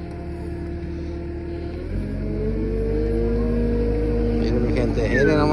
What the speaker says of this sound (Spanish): Nomás espérense que se arrime un poco el tractor.